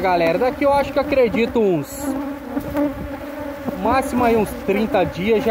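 Honeybees buzzing loudly and close at a hive being fed sugar syrup, a dense droning hum with passing wingbeat whines, while someone talks over it in Portuguese.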